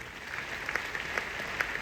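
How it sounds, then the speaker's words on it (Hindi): Large audience of several thousand at a DXN meeting in Patna clapping, with steady, fairly distant applause and a few sharper claps standing out. "एक जबरदस्त ताली होनी चाहिए"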